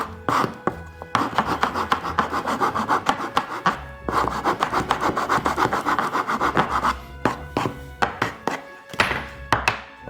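A sanding core's corner is relieved by hand, giving close, repeated rasping and rubbing strokes on wood with short pauses between bursts.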